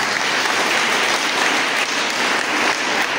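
Applause for the Kaparis team at a Sunday School children's drama and culture competition, a dense, even clapping from a crowd that holds steady and loud throughout.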